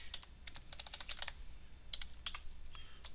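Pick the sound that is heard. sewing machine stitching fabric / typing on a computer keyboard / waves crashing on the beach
typing on a computer keyboard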